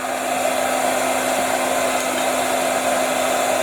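A hair dryer running at speed setting 2 for a classroom wind-energy activity, giving a loud, steady whooshing blow with a constant motor whine throughout and no talking.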